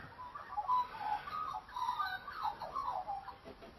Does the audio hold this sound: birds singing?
yes